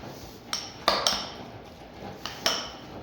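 Tuna and mayonnaise being mixed in a bowl for a sandwich, with a handful of sharp utensil clinks against the bowl spaced irregularly over a soft, quiet background.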